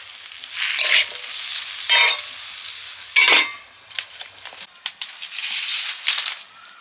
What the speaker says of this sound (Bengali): একটা কড়াইতে চাটনি হচ্ছে টমেটোর চাটনি